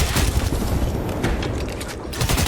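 In a pro Apex Legends match, a grenade blast mixes with rapid bursts of gunfire, a loud, dense run of booming shots and impacts close by.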